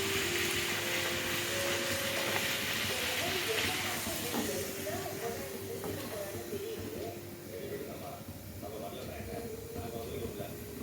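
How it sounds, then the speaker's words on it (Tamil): Puri frying in hot oil gives off a steady, loud sizzling hiss throughout, with faint clinks and a voice talking underneath. "இப்போது நம்ம ஒவ்வொரு பூரியாக போட்டு பொரிச்சு எடுத்துடலாம்."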